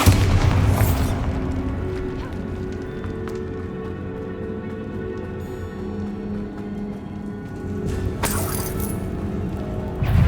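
A Bombarda spell explodes in the video game Hogwarts Legacy, with loud booming blasts at the start and near the end over a constant roar of game sound.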